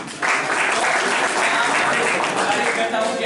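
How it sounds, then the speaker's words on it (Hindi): Loud, dense applause from a school audience greeting poets at a comic mushaira skit for a Class 12 farewell, starting abruptly and continuing steadily. "तो जोरदार तालियां इनके लिए।"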